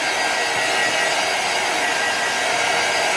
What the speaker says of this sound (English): we're doing this with our Chocateur dryer because my heat gun is too hot